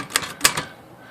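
Remington Rand KMC Standard typewriter typing: a few crisp key strikes in quick succession, moderately loud and close, fading into quiet room tone.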